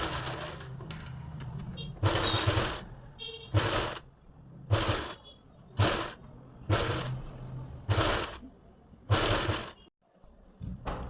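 A sewing machine stitches close along the edge of a folded fabric strip for a pleated suit, running in about seven short bursts of a second or so each, separated by brief pauses, loud and close.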